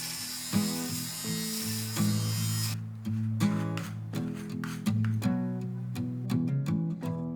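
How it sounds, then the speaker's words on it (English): An electric lint remover buzzes as it shaves pilled, peeling fabric, a steady motor whine broken by shifting tones as it moves across the cloth, close and alone. "I'm just removing the lint."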